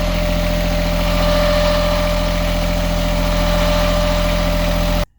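A boat engine runs steadily at close range underway, a loud, even mechanical drone with a rhythmic, oscillating throb, cutting off abruptly at the end.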